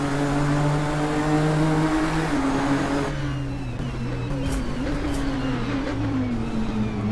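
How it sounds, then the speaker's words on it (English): A Nissan GT-R GT3 in Assetto Corsa, a video game, roars at high revs, then drops pitch in a clear downshift and climbs again as a loud, continuous engine note. "Really cool downshift sounds here in the GTR"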